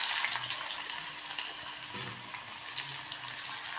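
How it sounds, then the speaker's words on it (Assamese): Onions fry in hot oil left from frying paneer for a curry, a steady, close sizzle and hiss that continues without interruption and slowly settles slightly. "পিঁয়াজখিনি ৰঙাকৈ ভাজি ল'ম"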